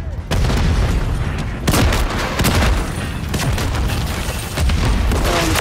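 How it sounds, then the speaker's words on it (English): Grenade launcher blasts and gunfire in a Call of Duty Modern Warfare III team deathmatch on the Terminal map, loud and continuous with repeated booming impacts layered under dense battle noise. "Fucking great grenade launcher"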